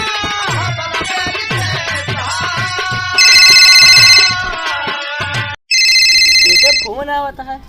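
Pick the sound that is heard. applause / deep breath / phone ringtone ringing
phone ringtone ringing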